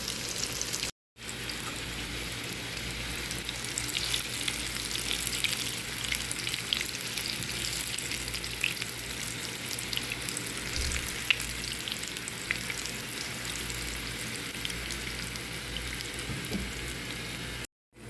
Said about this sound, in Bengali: দুই পাশ বাদামি করে পটলগুলো ভেজে নিব পটল সব দিয়ে দিয়েছি